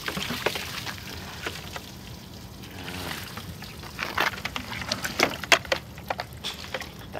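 Water splashing and pouring over a car engine during cleaning, with irregular wet splashes and drips growing more frequent toward the end, fairly faint over a low background hum.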